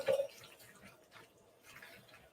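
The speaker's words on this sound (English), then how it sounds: "So I'm going to go ahead and add some more water here." Water being poured into a cooking pan with chicken and greens during a food pantry cooking demo, a faint splash and drip at the start followed by quiet, low trickling.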